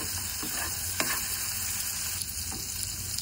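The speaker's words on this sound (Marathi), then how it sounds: "कांदा टोमॅटो मस्त फ्राय झालेला आहे." Onion and tomato frying in a pan as the base for a spicy crab fry: steady, close hiss and sizzle with faint stirring scrapes and a few soft knocks, with no talk.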